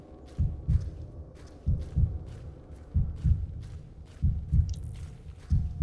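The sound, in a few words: heartbeat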